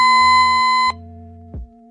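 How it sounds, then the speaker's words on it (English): A Cura1 2702 cordless falls monitor sounds its alarm as a loud electronic tone that cuts off and repeats, then ends with a short click, with no voices present. "When the monitor receives an alarm signal, it will illuminate and sound an alarm."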